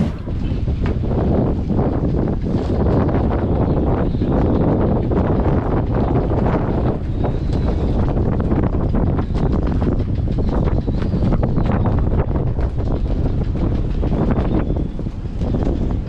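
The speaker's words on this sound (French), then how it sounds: "Ça souffle sévère hein, quand même là." Strong wind roars continuously against the microphone, loud and buffeting, with gusty rumble and no voices.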